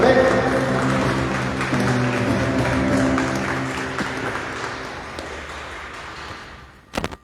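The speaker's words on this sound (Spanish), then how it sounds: "Vamos a dar un fuerte aplauso a nuestro Señor Jesucristo" A congregation at a Catholic evening gathering applauds Jesus Christ, moderately loud clapping mixed with a lingering tonal hum, gradually thinning and ending in a couple of sharp, close claps.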